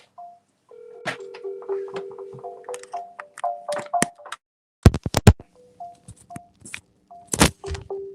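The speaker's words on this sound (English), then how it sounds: "I'm gonna double dial" Telephone keypad tones beep in short bursts during a phone call, several quick dialing pulses mixed with sharp clicks and crackles, with no talk over them.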